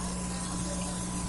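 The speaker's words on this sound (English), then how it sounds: "and then you spray your pan." Cooking spray hisses onto an 8x11 baking pan for baked oatmeal, one continuous close spray lasting the whole moment over a faint electrical hum.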